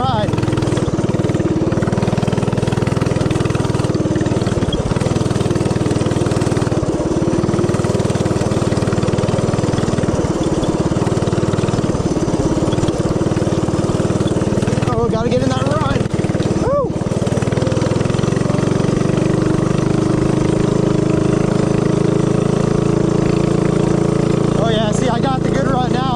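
A Coleman CC100X mini bike rides off-road, its small engine droning steadily at full volume throughout, with a few brief surges, under a speaking voice.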